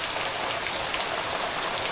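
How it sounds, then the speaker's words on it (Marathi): Heavy rain pours outside a house in the Konkan countryside, a dense, steady patter and hiss of drops hitting surfaces, loud and close with no voices. "घरात आल्यानंतर तुफान पाऊस सुरू झाला आहे"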